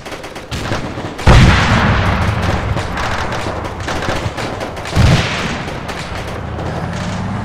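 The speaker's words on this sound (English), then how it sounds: "Mal needs to stop shooting while he's running" Gunshots crack out in Arma 3 during a Gulf mission, with two loud booming shots standing out over a dense stretch of rapid, rattling distant fire.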